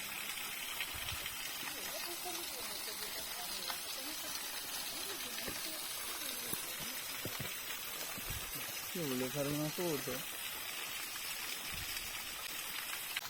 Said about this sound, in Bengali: ঝর্ণার পানিগুলা এখান দিয়ে যে যাইতাছে